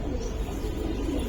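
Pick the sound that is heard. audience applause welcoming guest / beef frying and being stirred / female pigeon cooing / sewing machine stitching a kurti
female pigeon cooing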